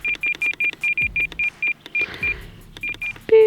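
RC transmitter for an E-Flite UMX Turbo Timber Evolution mini airplane giving a rapid run of about a dozen short, bright, evenly spaced beeps during trim adjustments, close and loud, ending in a longer, lower tone.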